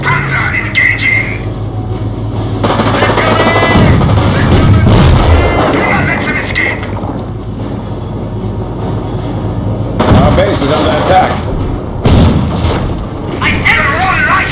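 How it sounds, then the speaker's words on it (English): Panzer tank cannon blasts and crackling battlefield gunfire in Company of Heroes, several heavy booming shots spaced across a long stretch amid engine rumble, with voices calling out between the explosions. "Panzer engaging!"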